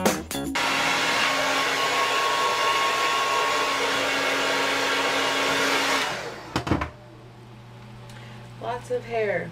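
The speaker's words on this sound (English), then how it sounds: "now I'm going to go through and dry it more specifically" A hair dryer blowing steadily on curly hair for about six seconds before shutting off, followed by brief handling clatter and a faint voice.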